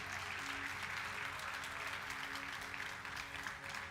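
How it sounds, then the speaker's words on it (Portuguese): A church congregation applauding during a worship service, a thick continuous wash of clapping with faint tonal sounds beneath it, steady throughout. "aplaude o nome do Senhor, irmão"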